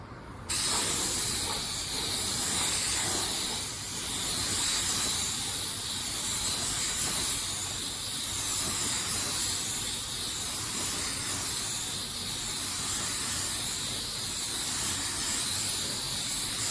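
A Porphis 717 paint spray gun lays down automotive clear coat in one pass, a steady loud airy hiss of atomizing spray running continuously from start to finish with no speech over it.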